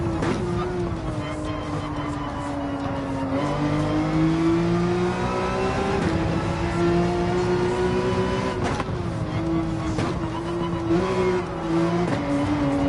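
Race car in Gran Turismo 7 accelerating on a practice lap, a loud continuous engine drone climbing in pitch through gears with brief drops at shifts, close and sustained, with a voice talking over it.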